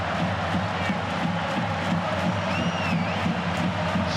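Stadium crowd at a J1 League football match between Nagoya Grampus and Urawa Reds, a continuous excited roar with whistles and shouts rising over a dense wash of noise.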